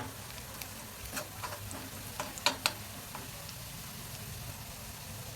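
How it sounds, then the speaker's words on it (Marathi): Onion fries in a pan with a little cumin for egg bhurji, giving a faint, steady sizzle with a few light clicks of a spoon against the pan. "कांदा परतालाय चांगला"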